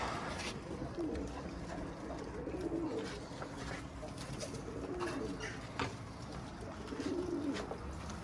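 Pigeons released from their coop before it is cleaned give soft, low coos several times over a constant background hum, with faint outdoor noise and no clear talk.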